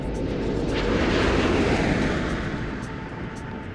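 Space Shuttle Atlantis rumbles on its landing approach to the runway, a broad, loud roar that swells and then slowly fades, with a faint steady tone running underneath and no voices.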